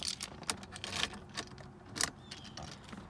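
Keys jangle in a few quick metallic bursts, near and fairly quiet, while someone works on a car's steering after a torn steering bushing.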